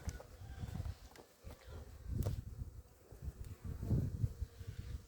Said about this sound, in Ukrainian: Сімейки літають, хочуть літати